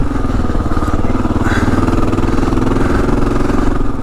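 A 2022 Kawasaki KLR 650 single-cylinder engine chugs loud and close at low, steady revs with a throbbing beat during slow off-road riding.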